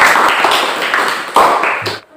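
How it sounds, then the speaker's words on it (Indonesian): A classroom claps for group 2, a dense, close burst of many hands applauding steadily for about two seconds before it stops abruptly. "berikan tepuk tangan untuk kelompok 2"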